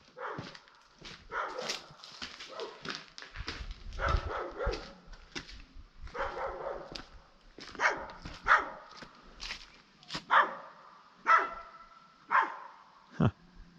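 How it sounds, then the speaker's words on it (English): Dog barking repeatedly in irregular bursts, fairly close and clear, with some yips and growls between barks and no talk. "Why do I hear a dog?"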